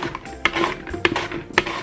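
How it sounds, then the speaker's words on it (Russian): An onion is diced on a manual vegetable cutting machine set on a tray, producing three evenly spaced, sharp clacking strokes close by, with a soft scraping between them. "режу лук на кубики"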